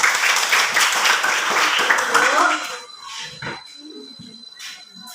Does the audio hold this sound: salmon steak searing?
no